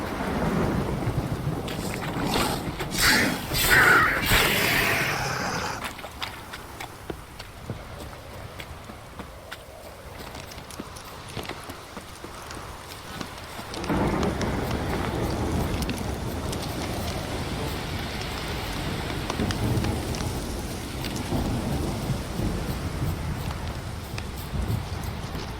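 A rain downpour with thunder in The Witcher 3: Wild Hunt, opening with a loud, rumbling burst that fades into softer rain, then heavier steady rainfall returns for the latter half.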